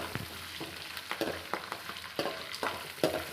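Two onions fry in oil in a pan for lemon chitranna, a soft continuous sizzle broken by about eight quiet, regular stirring scrapes, heard close with no talking.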